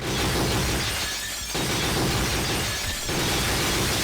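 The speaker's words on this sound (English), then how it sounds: "Why does shooting the skeleton sound like breaking glass?" Dense, crashing glass shatters from a skeleton being shot in a haunted light gun video game, two long bursts back to back filling the clip loudly with no voices.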